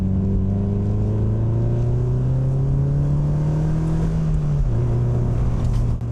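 A PGO Speedster cruises at about 60 km/h, its engine humming steadily with a rising whine that dips briefly as it shifts, plus a constant road and wind rush from inside the car.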